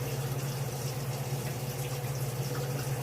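Very cold tap water in Burlington runs steadily from a faucet into a homebrew container, a continuous close filling rush with a low hum beneath and no talk.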